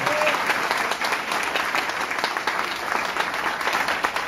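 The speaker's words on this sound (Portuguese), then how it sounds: "Vamos aplaudir ao Senhor por esta grande obra." A church congregation applauding during a worship talk, a dense, steady wash of many hands clapping at close range throughout, with a few faint voices mixed in.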